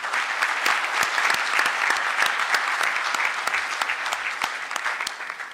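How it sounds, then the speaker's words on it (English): Audience applause at a Kenya-Poland economic dialogue in Nairobi welcoming the President of Kenya: steady, dense clapping from a sizable crowd, fairly close and sustained for several seconds, with no talk over it. "With applause, we welcome His Excellency."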